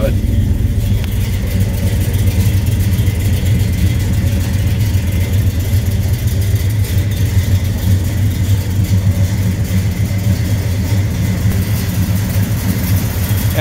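A 1969 Chevrolet Chevelle SS with a 396 V8 and Hooker headers idles steadily with a deep, even rumble throughout, loud and close, with someone talking over it.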